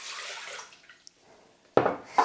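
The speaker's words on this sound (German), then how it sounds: "wir geben einmal das Wasser in den Mixtopf." Water pouring into a Thermomix mixing bowl while preparing dough for pretzel rolls, a steady splashing stream that fades out, followed by two short louder splashes near the end.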